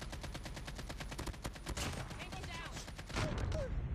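Gunfire in the multiplayer video game Call of Duty, rapid repeated automatic shots in dense bursts, fairly quiet and continuous, with a brief louder stretch near the end.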